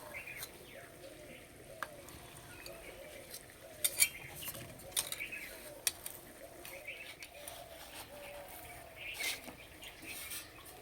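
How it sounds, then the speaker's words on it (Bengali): A metal spatula cuts through egg and spinach in a pan, producing scattered light clinks and scrapes over a soft, steady background of simmering. "আমি খুন্তি দিয়ে কেটে নিচ্ছি"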